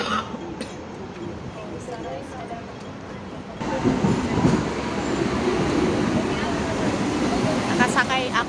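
A Hong Kong tram ride with steady rumbling rolling noise and rattling from inside the car, growing louder partway through, with brief clicks and voices talking nearby.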